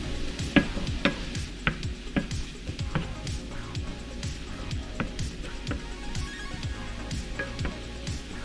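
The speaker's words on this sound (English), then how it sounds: "just so you can get a good enough sizzle to it" Kimchi with sugar cooking in a pan, a soft steady sizzle with repeated scraping and stirring strokes from a utensil at a close distance, gentle and continuous.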